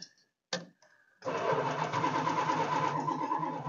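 An old 440 Mopar V8 with a fresh battery cranks over after a couple of brief starter bumps, then spins fast and evenly in a sustained, rhythmic churn up close.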